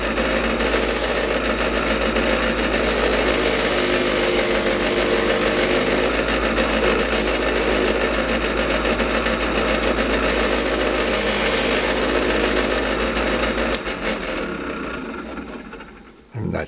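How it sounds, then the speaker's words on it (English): A fur polishing wheel with no compound buffs aluminum motorcycle parts. A loud, steady motor drone runs throughout and then tapers off at the very end. "the final step is our fur wheel. No compound, just the fur wheel."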